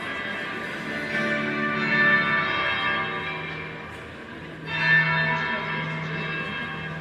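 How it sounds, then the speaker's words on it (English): A deep church-style bell tolls twice in Dragon Age: Inquisition, each strike ringing out with a long, shimmering decay at moderate loudness, heard without talk. "That would be the second bell."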